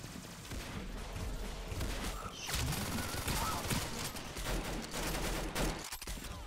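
Rapid gunfire from the Roblox game Arsenal rattles in dense bursts almost throughout, fairly faint, with a few heavier shots in the middle.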